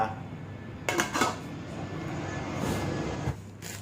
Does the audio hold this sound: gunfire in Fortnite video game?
no